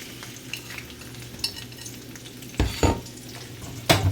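Fish curry with onion being stirred in a pan, a soft background sizzle punctuated by a few sharp utensil scrapes and clinks, the loudest near the end.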